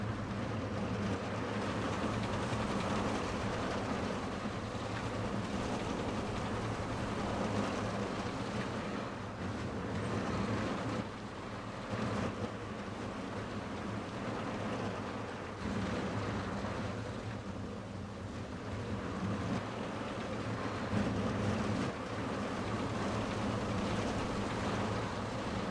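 A roller coaster in the video game Planet Coaster 2 launches and runs its short layout, a continuous loud rumbling roar of the train on track that surges and dips for the whole run, with no talking.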